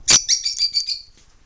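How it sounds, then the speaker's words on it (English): A pet lovebird gives a short burst of sharp, high chirps, close and bright, each chirp trailing off into quieter twittering. "This is one of our lovebirds."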